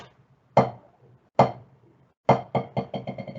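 Sharp drum strokes played one at a time, two spaced single hits, then a run of quickening strokes that fade and get softer, close and clear.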